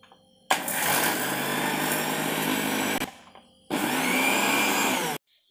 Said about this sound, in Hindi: तो अभी मिक्सी से इसको बनाते हैं।